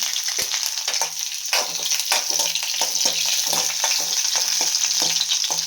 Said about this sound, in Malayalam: ഓക്കെ, വെളുത്തുള്ളി ഇടുന്നു. 2 പച്ചമുളക് ഇടുന്നു.